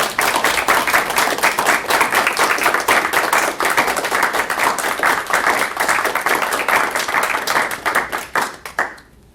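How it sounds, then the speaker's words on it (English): Audience applause at the close of a peace forum talk, sustained loud clapping from a room of people, dense and steady for several seconds before stopping abruptly. "How about some applause?"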